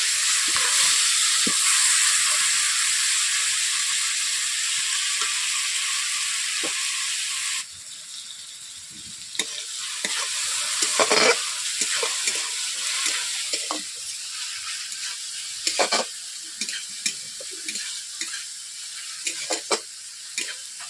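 Grated tomato, ginger and garlic fry with onions in a pan for fish curry, a loud bright sizzle that drops to a softer crackle partway through, with scraping stirs and clinks throughout.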